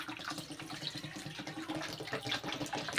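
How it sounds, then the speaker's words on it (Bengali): Water poured into a pot of Gobindobhog rice for cooking phena bhaat, a soft splashing trickle lasting a few seconds, close and fairly quiet. "চলুন জলটা দেওয়া যাক"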